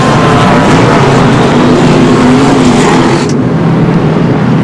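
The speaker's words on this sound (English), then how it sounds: "Jeff Green leads them off pit road" Jeff Green's number 21 race car pulls away from pit road during a caution in a 2002 NASCAR Busch Series race, its engine a loud, continuous roar blended with other cars' engines throughout.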